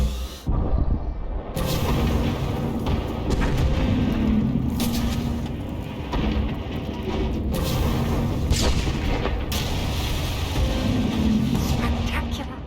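Artillery barrages boom and rumble continuously in the strategy game Imperial Loyalist, Onslaught 4: dense, loud, overlapping blasts and crashes with repeated heavy impacts throughout.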